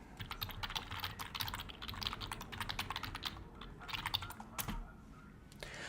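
Quick clattering keystrokes on a computer keyboard, close and fairly quiet, tapping in irregular bursts while a keyword is typed, with a brief pause near the end.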